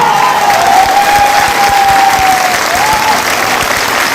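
Loud, dense applause from a crowd at a Safe Shop direct-selling business meeting in Mayaganj fills the whole stretch, steady and close, with a faint tone running underneath.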